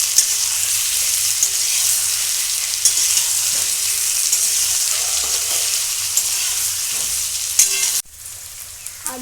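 Potatoes sizzle and crackle steadily in hot oil in a pan, a continuous loud fry with occasional stirring clinks, cutting off abruptly near the end to a quieter hiss.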